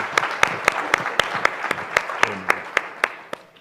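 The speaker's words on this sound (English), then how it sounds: "give another round of applause for our young men and women of the National Youth Service Corps" An audience applauds the young men and women of the National Youth Service Corps, a soft steady bed of clapping with one loud, close pair of hands striking a slow, even beat on top.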